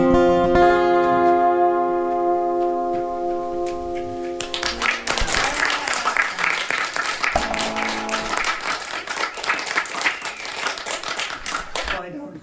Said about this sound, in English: Find out who's clapping and who's not.